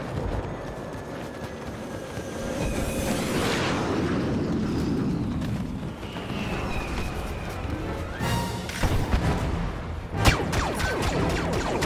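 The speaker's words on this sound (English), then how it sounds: "Airstrike incoming." An airstrike in Star Wars Battlefront arrives as a rising rushing roar that swells into a long rumbling blast, followed by scattered crackling impacts and a sharp boom near the end.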